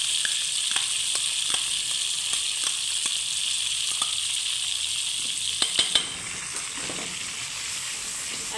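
Garlic-ginger paste frying in a pan with chopped green chilies for a moong dal dish, giving a steady close sizzle with scattered pops and a brief burst of crackles near the end.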